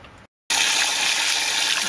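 Household water gushes steadily from a hose into a hydroponic system after a brief cut, a loud, continuous rushing fill with no talking.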